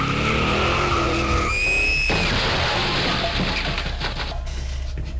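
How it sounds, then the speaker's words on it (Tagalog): Car tires skid and squeal loudly in a long screech lasting several seconds, staged as a crash sound effect in a radio drama, with a sharp high whine at the start giving way to rough, noisy scraping. "Kakabigin ni Rick ang manibela. Bababangga ang kotse ni Rick"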